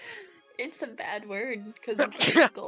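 A person sneezes loudly and abruptly at close range during a voice chat while playing the game Soma, coming right after a few spoken words.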